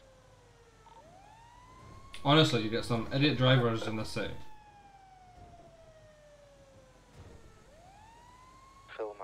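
Fire engine siren in a video game, a wailing tone sweeping up and down at moderate distance, with someone speaking briefly over it midway.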